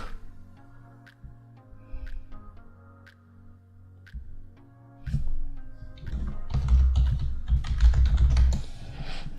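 Keystrokes tap steadily on a computer keyboard as an administrator username and password are typed in during an Azure AD Connect setup, brisk and fairly close, speeding into a denser, louder burst of typing toward the end.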